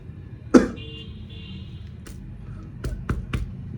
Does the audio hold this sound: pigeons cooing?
no